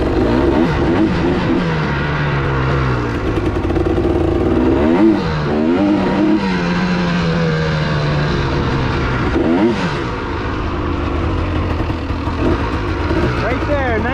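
The engine of a 1985 Honda 250 SX runs while warming up, revving up and down in rising and falling sweeps against a steady motor drone, with a person talking over it.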